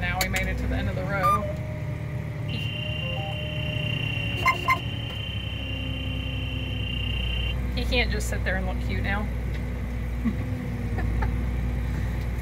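A tractor's engine chugs low and continuously while it works a field, holding steady in the background under a person talking, with brief higher tones and clicks at times.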